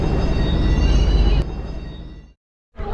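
Delhi Metro Blue Line train running, a loud close rumbling roar that eases off, cuts to silence for a moment, then picks back up.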